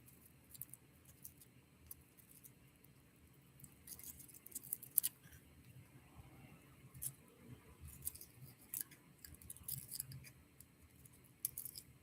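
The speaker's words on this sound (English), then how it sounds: "I'm gonna do a flat cut and then take the sides off." Small scissors snipping Swiss straw for a stonefly body at a fly-tying bench, a scattering of faint, quiet clicks and snips over low room hiss, with no voices.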